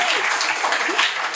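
An audience at an Indonesian political talk show breaks into a brief burst of dense, steady applause.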